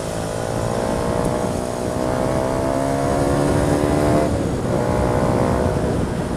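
A motorcycle fitted with a Pro Speed Black Series exhaust and a dB killer revs high around 7500 RPM, giving a loud, continuous whining engine note that rises and dips while riding, with steady road and wind noise.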